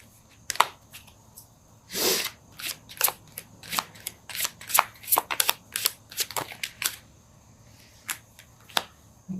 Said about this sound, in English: I can't shuffle.